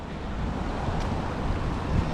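Ocean surf on a Hawaii beach at sunset mixed with heavy wind buffeting the microphone, a continuous low rumbling wash that swells slightly near the end.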